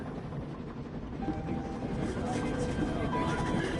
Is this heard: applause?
no